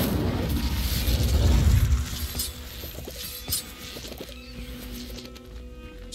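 The Incendio fire spell cast in Hogwarts Legacy: a loud, dense whooshing, crackling burst that fades after about two seconds into quieter clicks and rumbling game ambience.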